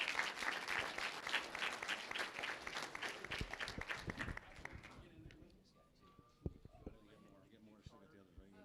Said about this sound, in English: clap again for these guys